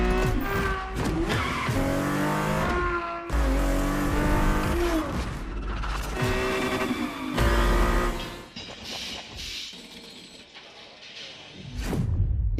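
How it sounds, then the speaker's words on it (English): A Ferrari F50 in a racing video game revs hard through rising and falling gear sweeps, with tire squeal and skidding, loud and close, dropping off briefly before surging again at the end. "The Ferrari F50, a bridge between road and racetrack."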